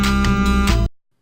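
Opening music of the 3DO video game Shelly Duvall's It's a Bird's Life, a brief loud tonal burst with sustained harmonic notes that cuts off abruptly after under a second, leaving silence.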